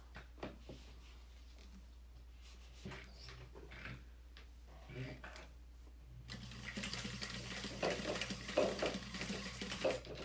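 A child splashes and sloshes water in a cup indoors, with a few light knocks early on, then a denser stretch of continuous splashing and pouring in the second half, moderately close.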